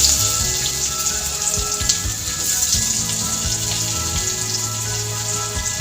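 Onion and tomato fry in hot oil for an egg pepper gravy, giving a steady, close, dense sizzle that crackles evenly throughout with no talking.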